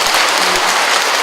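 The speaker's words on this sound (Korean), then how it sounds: "신부님께 감사의 박수 드립니다." A congregation applauds inside a Catholic parish church during a diocesan retreat after a priest's lecture, dense, loud, continuous clapping from many people.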